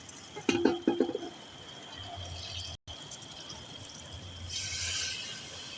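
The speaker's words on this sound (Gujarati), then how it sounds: "નાખી દીધું છે પાણી" Water poured into a pot of pomfret fish curry, a short splashing pour with drips near the start, then a quieter steady trickle and a brighter hiss toward the end, close and alone with no talk.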